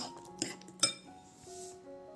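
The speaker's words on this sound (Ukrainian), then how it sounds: "Оце все перемішую добренько" A spoon clinks twice against a bowl, with soft scraping as a mixture is stirred, close and quiet.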